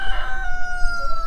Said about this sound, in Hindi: तगड़ा मुर्गा है यार, कितना ही तगड़ा।